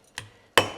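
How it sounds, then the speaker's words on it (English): A ball peen hammer strikes leather cartridge loops on a belt twice to flatten them. The two sharp, close taps fall about 0.4 seconds apart in a quiet room. "The next thing I do is I take my ball peen hammer"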